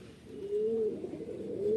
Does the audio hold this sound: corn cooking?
no